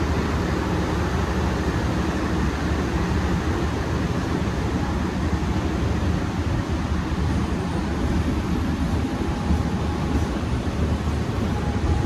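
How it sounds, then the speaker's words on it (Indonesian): A steady, loud rumble of a commuter train departing Sepanjang station in Indonesia, continuous low roar with rattling, no voices. "Kereta api komuter lain Doho ke arah Malang via Kertosono berangkat dari stasiun Sepanjang."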